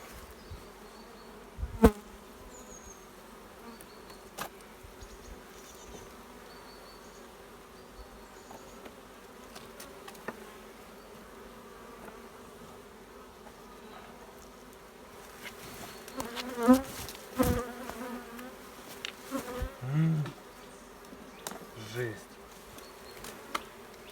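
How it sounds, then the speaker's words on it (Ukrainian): Bees swarm around a log hive as honey is cut out, a constant droning buzz near the ear, joined later by scattered knocks and scraping from the cutting work. "Ох, що я відро бджол нарізав."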